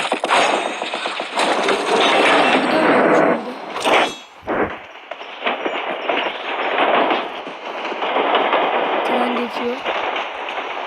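A train rolls past on the rails with clattering wheels and metallic clangs, loud and close at first and then easing to a steady rumble, while people talk over it.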